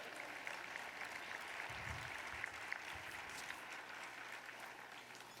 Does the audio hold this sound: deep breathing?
no